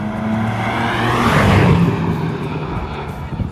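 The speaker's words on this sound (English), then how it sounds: "This BMW M4 Competition comes with a twin-turbo 3-liter straight-six engine. And it sounds beautiful." A 2024 BMW M4 Competition with a twin-turbo 3-litre straight-six swells in loudly as it passes close by, peaking midway and then fading, with no talk over it.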